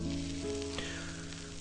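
Spices tempering in hot oil in a kitchen give a continuous, even sizzle and crackle, close and steady throughout, with a low hum underneath.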